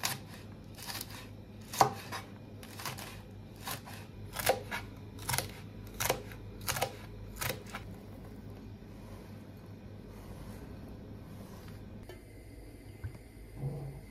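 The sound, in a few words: chopping peppers with knife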